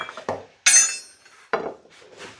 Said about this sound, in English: We're back with a big hammer. I'm just going to knock that out of there.